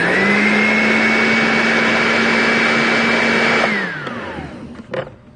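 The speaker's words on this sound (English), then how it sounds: "Hit it in the blender for about 5 seconds." A blender runs for a keto pumpkin spice latte, a loud steady whirring motor that holds for about three and a half seconds and then winds down, followed by a few faint clunks.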